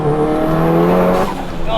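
A 700 hp big-turbo Audi S1 hot hatch accelerates hard, its engine loud and close, the pitch sweeping up through the revs with tire noise beneath, while a voice talks over it.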